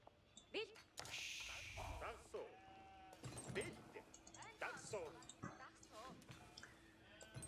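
Sheep bleat in the real-time strategy game Age of Empires IV during a ranked Mongol versus English match, several short wavering bleats amid game clicks and effects while someone commentates over them.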